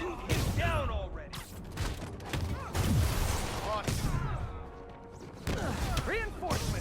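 Gunfire bursts and crashing impacts from a Spider-Man video game fight, layered with music and action effects, loud and busy across the whole stretch alongside some voices.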